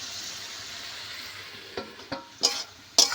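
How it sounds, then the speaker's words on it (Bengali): Cabbage with prawns and potatoes fries in a pan, a steady close sizzle broken by several louder stirring scrapes and clanks toward the end. "আবার একটু নেড়ে চেড়ে বেশ ভালো করে কষে নিয়েছি।"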